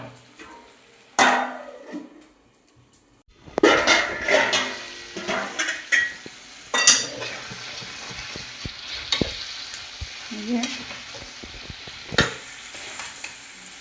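Cashew mutton curry being sautéed in a pot produces loud, irregular scraping and clanking of a spoon against metal over a crackling sizzle. The strokes come in bursts after a quiet opening.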